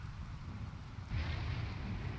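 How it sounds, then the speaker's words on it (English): Rain falling in the video game Rimworld, a faint steady hiss that thickens and grows louder about halfway through, with no talk over it. "Is the rain going to put the fires out?"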